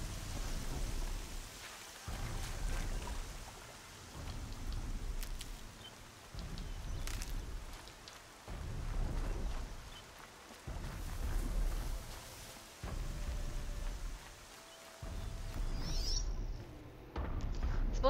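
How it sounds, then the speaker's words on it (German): Rain and rumbling thunder in the video game Horizon Zero Dawn, a steady downpour with low, repeated swells of thunder that rise and fall in pulses, heard alone with no talk over it. "Endlich ist der Regen weg."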